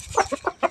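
A country hen gives a short burst of four or five quick, close clucks in an uneven rhythm, with no talking.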